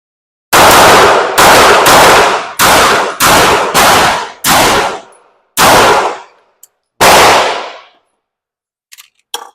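Eight loud, sharp pistol shots ring out one after another at a target, spaced slowing apart, each with a short echoing decay and no talking.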